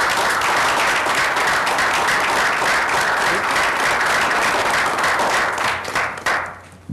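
Loud, dense applause from an audience at an awards and recognition ceremony, sustained evenly for several seconds before quickly tapering off near the end.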